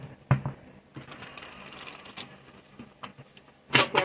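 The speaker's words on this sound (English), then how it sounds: "Couple more shuffles." Tarot cards are shuffled in a few quick riffling bursts, soft papery flutters with sharper clacks at the start and end, fairly quiet and close.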